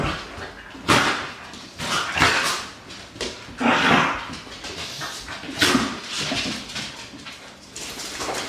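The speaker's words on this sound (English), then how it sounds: "My dogs are playing in the background." Dogs playing indoors at home, with scrabbling, panting, whimpers and short yips coming in repeated bursts at moderate distance. No one speaks over them.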